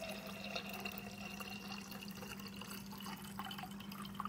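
Reverse osmosis filtered water runs steadily into a cup, a continuous close trickle with a faint tonal hum from the machine underneath, filling to about 12 ounces.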